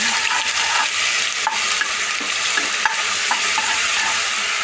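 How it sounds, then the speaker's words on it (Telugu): Ground onion paste frying in hot oil for a mutton curry gravy, a loud continuous close sizzle broken by repeated spoon scrapes and stirring knocks against the pan, with no talking. "ముందుగా మనం గ్రైండ్ చేసి పెట్టుకున్నాం కదా పెద్దలపాయ పేస్ట్ గ్రేవీ కోసం, అది వేసుకొని తిప్పుకోవాలండి."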